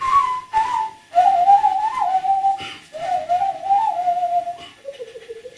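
A bamboo quena flute played solo, carrying a gliding, breathy melody of sustained notes that step downward in short phrases, clear and fairly close, with brief pauses between notes.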